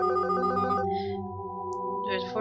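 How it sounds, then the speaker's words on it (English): A phone rings in a video game, a bright electronic ringtone with repeated warbling tones over steady game music, fairly loud and without speech. "you hear a ringing noise, and your father takes his phone out of his pocket"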